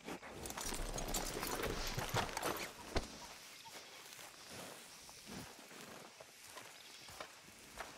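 Horse hooves clip-clop at a steady walking pace in Red Dead Redemption 2, louder over the first three seconds amid rustling, then fainter with scattered footfalls and light ambient noise.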